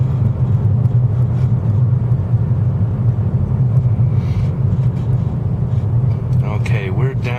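A 2013 Nissan Altima 3.5 SL on the road gives a continuous low engine and road rumble from inside the cabin, while a voice talks throughout.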